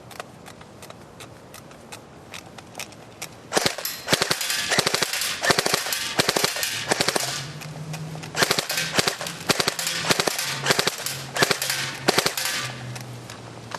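Double Eagle Krinkov airsoft rifle firing full auto, rapid snapping bursts of shots in quick succession, loud and close after a quieter opening.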